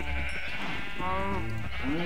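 Sheep in the game Minecraft bleat in short wavering cries over continuous background sound, with someone speaking German at the same time.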